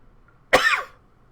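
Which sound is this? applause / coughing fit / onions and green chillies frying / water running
coughing fit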